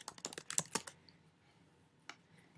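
Quick keystrokes clatter on a computer keyboard in a short burst of about a dozen clicks, then a pause and a single later tap, quiet and close.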